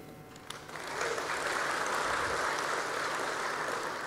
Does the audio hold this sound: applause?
yes